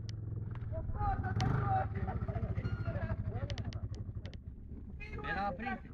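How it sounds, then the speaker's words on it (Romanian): A Polaris vehicle's engine runs while the machine sits in water, a close, rhythmic pulsing drone that swells and chugs as voices talk over it. "Oprește motorul, Cipriane, că intră pe eșapament."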